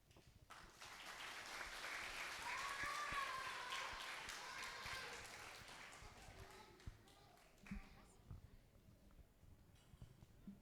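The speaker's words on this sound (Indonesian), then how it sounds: "kita tepuk tangan sekali lagi Bapak Ibu" A church congregation at a Sunday service claps, a broad wash of applause that swells and then fades, faint and distant, with a sustained tone and a few scattered taps as it dies away.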